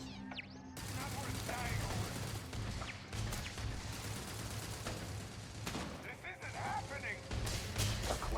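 Starship turrets in the space game Starfield fire rapid, continuous bursts of clattering shots through a busy space battle, with repeated impacts and a voice talking over the firing.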